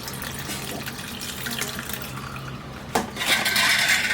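Warm milk poured back and forth between vessels to cool it, a steady splashing stream close by that briefly clinks and then rushes louder toward the end.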